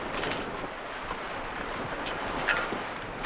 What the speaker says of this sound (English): there was a fine breeze, maybe a tad too powerful, blowing us to Lerwick